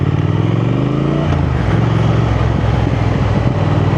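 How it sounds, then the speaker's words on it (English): A Triumph Thruxton 1200 motorcycle accelerates hard, its engine note rising through a gear change, with a loud, close, rough exhaust growl throughout. "And you do get the pops and crackles from that exhaust as well when you have the revs up."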